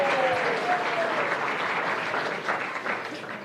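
Audience applause at a college athletics hall of fame ceremony, a sustained crowd clapping in a reverberant hall, with a faint voice and a brief whistle-like tone early on, tapering slightly at the end.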